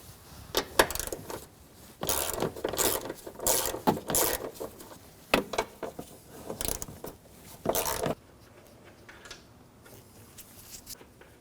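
A 14mm socket wrench ratchets the top nuts off the rear shock and spring assembly of a 2013-2015 Subaru XV Crosstrek, giving bursts of close metallic clicking and clanking separated by short pauses, then quiet.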